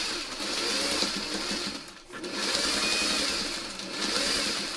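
A sewing machine stitches fabric in a steady, fast whirring run, pauses briefly, then starts again at the same pace, close and continuous.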